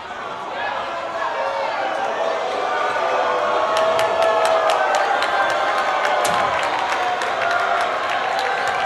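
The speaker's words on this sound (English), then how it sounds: "the crowd is madly disappointed at the calls the ref just made" Crowd at a boys high school basketball game between Heritage and Flowery Branch, a steady loud murmur and shouting reaction with sneaker squeaks, continuous and close.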